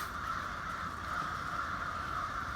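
Crows caw continuously at a steady, moderately loud level, a dense overlapping chorus of many birds close by with no talking.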